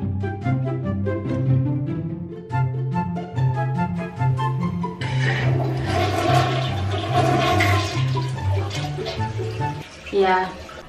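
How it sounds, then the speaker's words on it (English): A toilet flushed with a foot rushes and gurgles with water partway through, under and between a person's ongoing talking and music-like tones. "I do use my foot to flush the toilet also"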